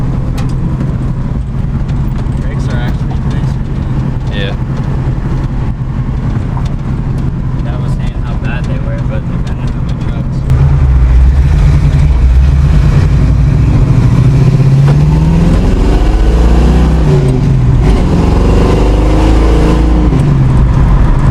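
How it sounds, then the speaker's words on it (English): A 1969 Ford Mustang Mach 1 Shaker car drives after years off the road, its engine a steady rumbling drone that grows louder and fuller partway through, with rising and falling revs as it pulls away, while people talk over it. "So we're gonna drive the car. We are driving the car."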